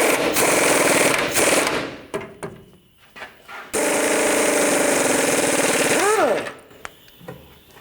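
Lower control arm bolts on a 2007-2014 GMC Sierra 3500 HD snugged up with an impact wrench: two long, loud, rattling hammering bursts separated by a short pause, followed by a quieter tail.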